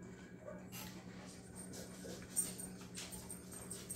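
Several dogs whimpering and whining at low level, thin high cries coming and going over steady background hum, with one slightly louder yelp near the middle.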